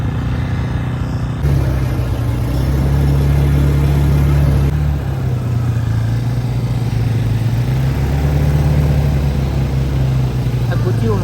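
An ATV engine drones steadily at a low, even pitch during a ride, with a slight rise in intensity partway through and rushing wind noise over it.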